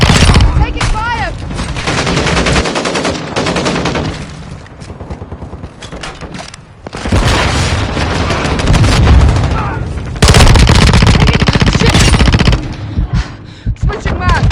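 Rapid automatic gunfire rattles almost without pause in the Call of Duty Modern Warfare 2 video game, loud dense bursts with booms, dipping briefly before resuming at full intensity.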